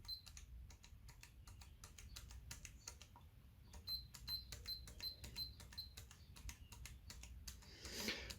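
Quick, crisp key clicks on a Logitech G910 mechanical keyboard with faulty switches in a rapid, uneven run, close and fairly quiet, with a faint electronic beep repeating partway through.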